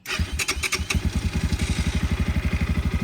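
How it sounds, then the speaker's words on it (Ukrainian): A motorcycle cranks on its electric starter and catches within a second, then settles into a steady, even idle with a regular low thumping exhaust pulse, close and fairly loud. "Заводиться з електростартера."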